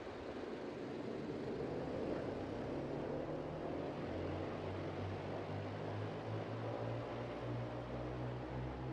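Flying boat engines in a flight simulator throttling up on a runway for takeoff, a dense propeller roar with a low droning hum that rises and steadies into sustained tones, loud and constant throughout.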